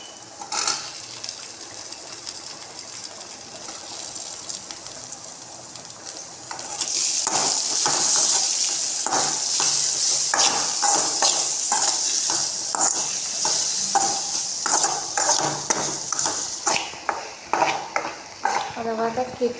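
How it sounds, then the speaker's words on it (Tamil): Tomato sautéing and sizzling in a pan on a home stove, loud steady frying hiss with repeated stirring scrapes and clinks of a utensil against the pan, quieter for the first few seconds before the sizzle swells. "அதை வதக்கிட்டு நல்லா பச்சை வாசம் போடுற வரைக்கும் வதக்கிட்டு"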